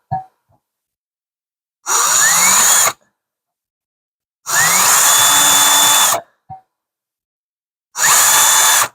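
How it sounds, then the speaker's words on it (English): A power drill boring small pilot holes in campervan fittings for screws, three loud steady bursts of a few seconds each with its whine rising as it spins up, separated by silence and small handling clicks. "So I'm going to do my little pilot holes right here"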